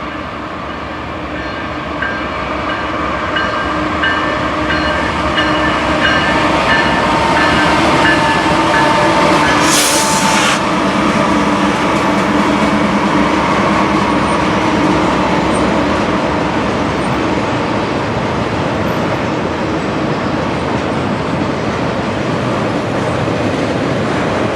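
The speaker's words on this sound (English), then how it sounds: "Here we see a Norfolk Southern eastbound intermodal train as it makes its way down the hill past the station" A Norfolk Southern eastbound intermodal train rolls downhill past a station near Altoona, Pennsylvania, its heavy continuous rumble building and holding loud for the whole pass, with one brief sharp screech midway.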